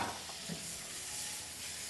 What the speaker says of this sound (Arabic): الزيت حامي، سقطنا الكبدة خليها هلا تتقلى شوي